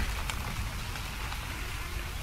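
Steady rain falls in the survival game Ark: Survival Evolved, a continuous close hiss of drops on surfaces with a few brief louder spatters, heard alone without any talking.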